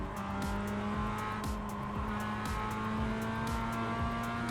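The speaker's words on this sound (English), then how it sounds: "For some reason I let the other car pass here as well." A race car at Lime Rock Park in the iRacing simulator holds a loud, steady engine drone with rhythmic pulsing, as another car draws alongside and goes by.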